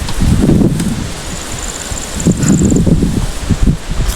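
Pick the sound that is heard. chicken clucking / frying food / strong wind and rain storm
strong wind and rain storm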